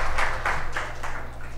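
Church congregation applauding, heard as a short burst of scattered group clapping in a roomy hall, a few uneven waves of claps over a low background hum.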